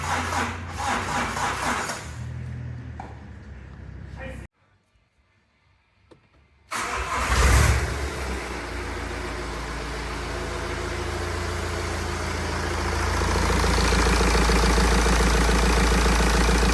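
BMW X3 with an N47D20C diesel engine and a broken camshaft chain, rumbling, cutting to silence, then cranking into a start and settling into a steady, gradually louder running drone; no talking.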